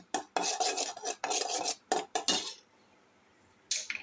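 Caramel for a pudding cooks in a wok while a utensil stirs it. Several close, rhythmic metallic scrapes come in quick strokes, then a pause, then another scrape.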